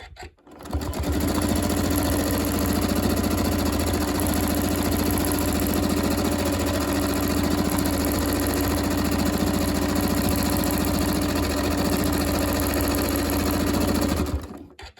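Longarm quilting machine stitching a T-shirt quilt, running continuously with a steady, rapid mechanical hum and fine rhythmic needle chatter, loud and close, starting and stopping cleanly.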